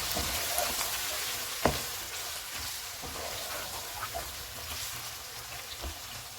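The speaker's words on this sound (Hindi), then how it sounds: "हाफ़ टी स्पून ज़ीरा पाउडर, हाफ़ टेबल स्पून कुटी हुई काली मिर्च, नमक हस्बे ज़ायका। इनको 2 से 3 मिनट तक भूनेंगे।" Mutton frying in a pan with cumin powder, crushed black pepper and salt for a black pepper mutton masala, a soft, steady sizzle with occasional scraping stirs and one sharper clack.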